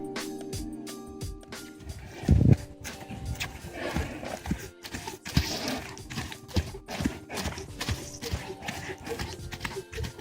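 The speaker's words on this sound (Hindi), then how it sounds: "मिलिए पुशरॉन से, एक फ्रेंच ड्राफ्ट हॉर्स" A Percheron, a French draft horse, moves with soft irregular hoof clops and rustling, with one brief louder thump, moderately close, under a faint background hum.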